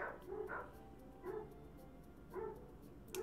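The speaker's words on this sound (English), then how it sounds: "Really hate those dogs." Dogs bark in the video game BROK: The InvestiGator, three short bursts of barking spaced about a second apart over a low steady background hum, fairly faint.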